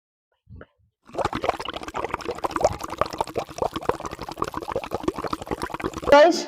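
Water pours from close by onto a cocopeat coin in a bowl, a steady gurgling, bubbling trickle lasting several seconds after a brief knock, ending in a louder splash.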